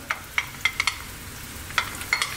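Onions and carrots frying in sunflower oil for a chickpea stew, a steady close sizzle punctuated by repeated clicks and scrapes of a utensil stirring against the pan, with no talk.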